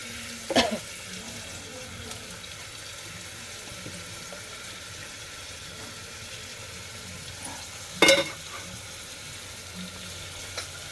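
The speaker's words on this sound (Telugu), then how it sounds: "ముందుగా తరిగి పెట్టుకున్న ఆనియన్స్ అనేది ఇందులో వేసుకోవాలండి" Chopped onions fry in hot oil with a faint steady sizzle, broken by two short, louder bursts of crackle and stirring spaced several seconds apart.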